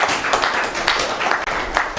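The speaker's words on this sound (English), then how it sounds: "can we give her another round of applause?" Audience applause at a symposium hall, a short burst of dense, fairly loud clapping lasting a couple of seconds.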